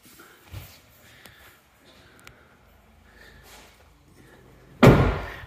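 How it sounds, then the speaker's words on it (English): A few faint clicks and handling noises from a Porsche 992 GT3 Cup car door, then a loud, sharp door slam near the end, close by. "And I can open the door."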